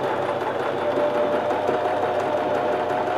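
Sewing machine stitching the shoulder piece onto the back piece of an open bolero top, running steadily and close for about three seconds with a fast, even mechanical whir before stopping abruptly.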